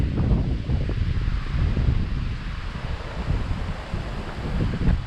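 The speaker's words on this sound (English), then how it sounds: "Wind's picking up today." Gusty wind buffets the microphone near a pier on the Outer Banks coast, a steady low roar with rushing swells throughout and no voices.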